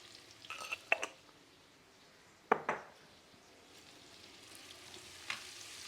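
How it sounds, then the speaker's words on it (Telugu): Tomatoes with salt and chili powder frying in a pan, a faint steady sizzle with a few louder stirring scrapes and clicks against the pan. "తొక్క ఊడేంత వరకు కూడా మనం ఫ్రై చేసుకోవాలి."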